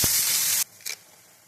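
Ginger, garlic, onion, green and dried chilli and tomato paste hit hot oil for a crab curry, giving a loud, close sizzling burst that cuts off after about half a second, followed by a brief fainter hiss.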